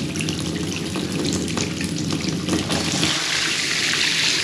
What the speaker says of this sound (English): Let's just switch it over to shower.